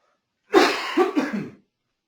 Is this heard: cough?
yes